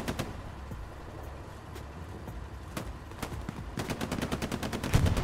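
Rapid gunfire in a video game squad battle, with sharp cracking shots scattered early and then a dense burst of fast repeated bursts building louder toward the end.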